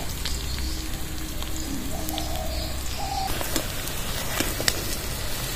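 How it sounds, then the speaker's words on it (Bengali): Pieces of gram-flour batter and potato fry in a pan with a steady, moderate sizzle and crackle, with a couple of faint tonal chirps in the background and no speech. "একটু লাল লাল করে ভেজে নিতে হবে, তাহলে স্বাদ লাগবে।"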